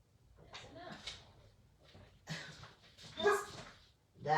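A dog barks in short, sharp bursts at close range, with a few louder yaps toward the end and some background voice between.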